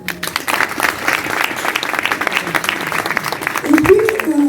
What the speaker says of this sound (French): Elle est là dans la salle, est-ce qu'on peut l'applaudir?